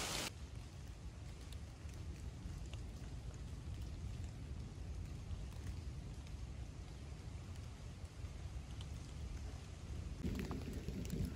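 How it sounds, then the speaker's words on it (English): Heavy rain pours during a thunderstorm on the Appalachian Trail. The downpour gives a constant dense hiss with low rumbling underneath, at a fairly low level overall, and there is no talk. "There's like a huge like crack of thunder, and then just like dumped on us for a couple minutes."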